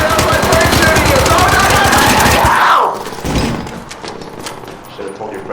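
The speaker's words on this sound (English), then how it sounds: "I'm my friend shooting you!" Sustained automatic gunfire in a video game, loud rapid shots for nearly three seconds that then cut out to quieter scattered thumps, with a voice talking over it.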